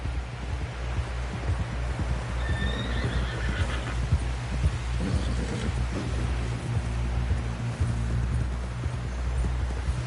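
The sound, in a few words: horse galloping, Red Dead Redemption 2 video game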